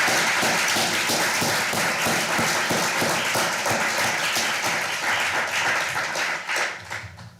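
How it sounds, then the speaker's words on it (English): An audience at a student mental health research network showcase in London claps and applauds in a dense, sustained burst that fades toward the end. The sound is loud and close, and no one speaks. "So can I ask you for a big round of applause?"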